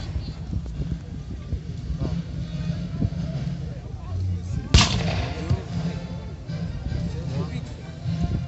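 A cannon fires at an 1807 battle reenactment of the fight for the Łyna river crossing at Barkweda, a single sharp boom partway through amid outdoor crowd noise and people talking nearby.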